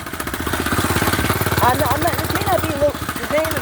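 A small 99cc hoverboard-kart engine runs loud and close with a fast, rattling putter while a person talks over it.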